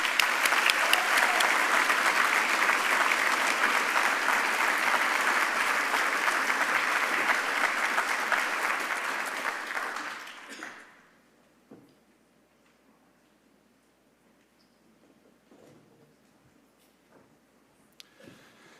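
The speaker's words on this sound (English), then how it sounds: "please join me in one more round of applause" Staff assembly audience giving a long round of applause for staff award winners, dense clapping for about ten seconds that fades out into a quiet room with a few scattered taps.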